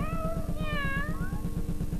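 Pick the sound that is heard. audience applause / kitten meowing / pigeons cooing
kitten meowing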